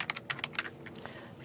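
Rapid bursts of keystrokes on a computer keyboard, close and crisp, in an uneven typing rhythm with no talking.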